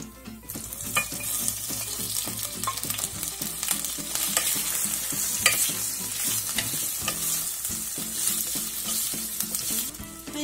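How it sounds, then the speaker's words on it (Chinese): Beef slices and ginger stir-fried in a little hot oil for a tomato beef stew: a steady, close sizzle lasting the whole stretch, broken by repeated spatula scrapes and clacks against the pan, with no voices. "爆香后，牛肉下。"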